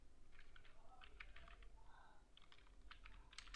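Computer keyboard typing in quick irregular clusters of light clicks, close and fairly quiet over low background hum.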